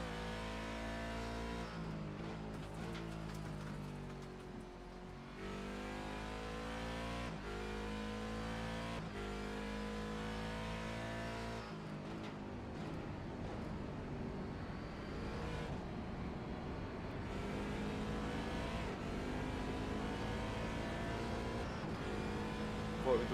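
W12 race car engine at a sprint series event, a continuous engine drone that rises and falls in pitch as it accelerates and shifts, heard at low level over about twenty-three seconds.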